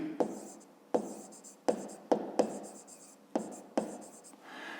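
A pen writes on paper while a 5th-grade maths exercise is solved, making six short, scratchy bursts of strokes in a close, quiet room.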